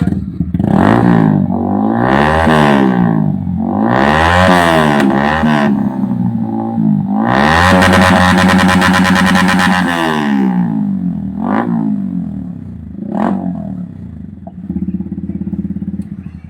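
Motorcycle fitted with a modified echo silencer, started up close and revved hard several times in loud rising and falling bursts, with a long sustained high rev in the middle and shorter blips before it settles to a rough idle.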